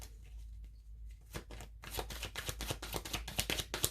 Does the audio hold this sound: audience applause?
no